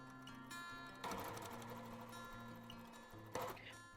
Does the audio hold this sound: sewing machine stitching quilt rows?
yes